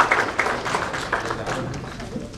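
An audience claps for an award winner at an education awards ceremony, a broad burst of applause that holds steady and slowly eases off, with a voice speaking faintly underneath.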